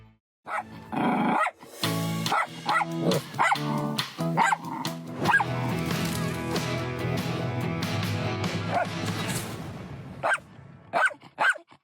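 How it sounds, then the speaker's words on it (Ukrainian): A Jack Russell terrier barks repeatedly and loudly in quick bursts, mixed with growls and yips, close by and continuing for several seconds. "Свій зірковий гав головному герою подарував улюбленець українців пес Патрон."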